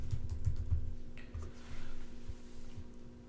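Close computer keyboard typing, a quick burst of keystrokes entering a web address, followed by a few scattered key taps against quiet room hum.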